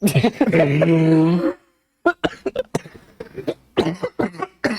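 A voice sounds at first, then after a short pause comes a string of sharp, close coughs in uneven bursts.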